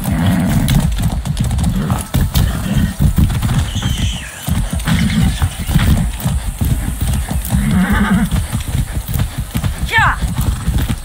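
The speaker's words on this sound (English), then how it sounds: "Very nice horse." Horse hooves clip-clop steadily through Far Cry 6 gameplay, a continuous loud trot with an occasional whinny, while a voice speaks briefly over it.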